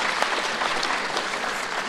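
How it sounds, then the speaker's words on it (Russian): A conference audience breaks into a dense, steady wash of applause to welcome a co-author of the law, loud and continuous without a break. "я прошу аплодисментами поприветствовать одного из авторов"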